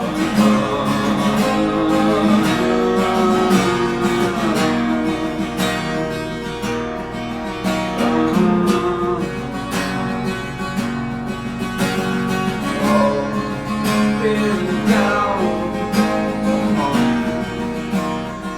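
A guitar and a singing voice are captured from across a treated room by a distant microphone, giving a steady, reverberant, roomy performance that plays continuously at moderate loudness.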